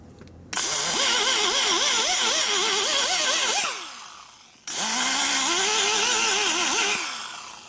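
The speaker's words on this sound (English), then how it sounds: "You grind that hump down until it's smooth." A die grinder whines at high pitch as it smooths a hump inside the port of an 88ci Evo engine head, running in two long bursts whose pitch wavers under load, with a short pause between.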